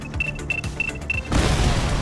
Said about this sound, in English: We may not have the time to stop the explosion.